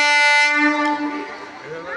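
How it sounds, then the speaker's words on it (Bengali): A train at a railway crossing sounds a loud, sustained horn that fades away within seconds, followed by a low rumble. "আপ এবং ডাউন দুটো ট্রেনই একসাথে কত সুন্দর ভাবে চলছে"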